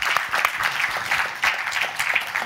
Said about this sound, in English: a round of applause for Owen and Mark